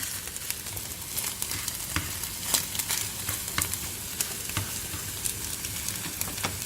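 Egg broken up with a utensil as it fries in a pan over low heat for egg fried rice, giving a dense continuous sizzle with frequent small crackles and scraping taps, close and steady.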